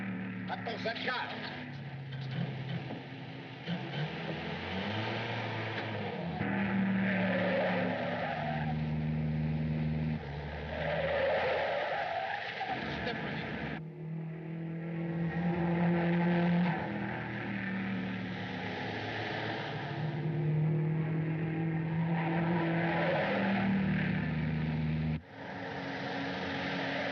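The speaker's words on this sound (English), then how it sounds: "What was that car?" A car speeding in an old film chase, a steady engine drone with rising and falling revs and tire noise under urgent dialogue.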